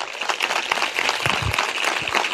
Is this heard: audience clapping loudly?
yes